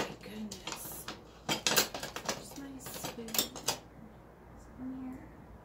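Metal cutlery clinks and rattles in short bursts as someone rummages for a spoon, close and fairly soft, with a brief voice in between.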